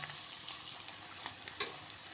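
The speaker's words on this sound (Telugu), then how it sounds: "ఉల్లిపాయ ఇప్పుడు కూడా ఎర్రగా ఫ్రై అయిపోవాలి ఫ్రై చేసుకుంటాం" Onions fry in a pan for a village-style greens and carrot stir-fry, giving a soft, steady sizzle with a few faint spoon taps and scrapes, quiet and close, with no voices.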